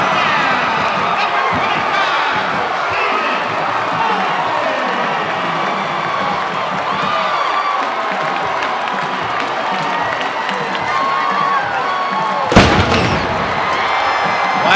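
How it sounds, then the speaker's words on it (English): A cannon fires once in a college football stadium after a Georgia Southern pick-six touchdown against Appalachian State, a sharp loud boom cutting through steady crowd roar and cheering, with broadcast commentary running over it. "the cannon fires."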